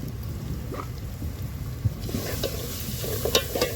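Chicken curry thickened with bajra flour is stirred in a pot, giving soft scraping and gentle sizzling close by with a few sharper clinks near the end, and no voices.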